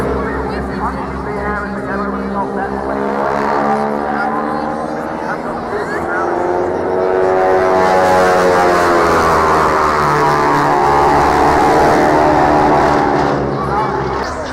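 A Spitfire fighter flies past at an airshow, a loud, steady engine drone with a sweeping pitch shift as it passes, swelling louder midway, while a commentator talks over the public address.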